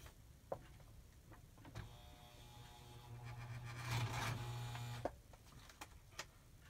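A sewing machine stitches lace onto the side of an 1800s-style ladies' junk journal book, its motor whirring steadily and swelling louder through the middle, framed by sharp isolated clicks and taps before and after, with no talking.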